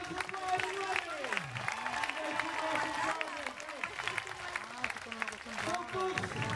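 A street busker show audience applauds and cheers after a performance, clapping mixed with shouting voices throughout, moderately loud and steady for several seconds.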